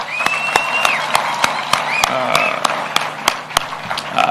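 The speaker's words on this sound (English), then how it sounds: "Can we clap for those girls?" An audience at an event with a Kenyan president claps, sharp individual claps forming a sparse, irregular rhythm under background talk and murmuring.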